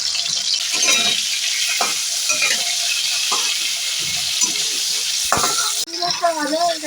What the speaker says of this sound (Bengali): কড়াইতে সরষের তেল গরম করে নিয়েছি, চিংড়ি মাছগুলো ভেজে নিচ্ছি